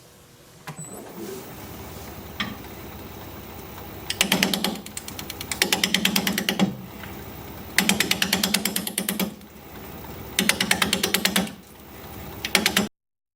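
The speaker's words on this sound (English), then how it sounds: "I'm going to start turning at about 550 RPM with my 5/8 inch standard grind bowl" Wood lathe at about 550 RPM with a 5/8 inch standard grind bowl gouge cutting a bowl, loud rough chattering bursts of several seconds each, separated by quieter pauses, with a steady hum underneath.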